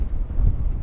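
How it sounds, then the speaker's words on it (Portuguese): Gusty wind in snow, a brief heavy blast of low roaring rumble pressing against the microphone, loud and close, with nothing else heard. "Olha o vento, Atka!"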